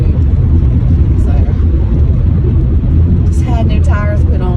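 Steady, loud low rumble of new tires rolling over rough South Carolina roads, heard from inside the car. A voice speaks briefly near the end over the constant road noise.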